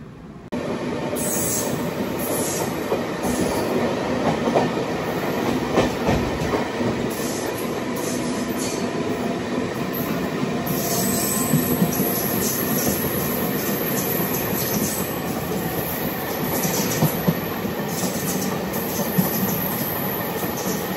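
Passenger train pulling out of Anaparthi station in India, steady rumbling wheels and rail clatter with high squeals, continuous and close for the whole stretch, no voices.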